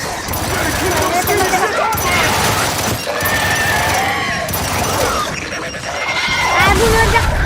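Dense, continuous battle noise from the video game Gears 5: explosions and gunfire crash and rumble throughout, loud and busy, with players talking over the action.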